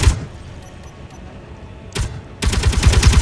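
Ship guns fire in a video game on the Stingray Mk 20, a sharp burst near the start, another at about two seconds, then a rapid loud volley of repeated shots to the end.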